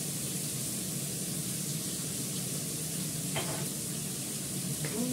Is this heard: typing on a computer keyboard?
no